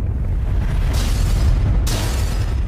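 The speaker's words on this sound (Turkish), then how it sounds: "Şehir bir patlamayla sarsıldı." A deep, sustained rumbling boom fills the clip, with two sharper hissing bursts cutting through the heavy low roar.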